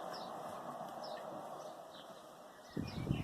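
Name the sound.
blackbird singing outdoors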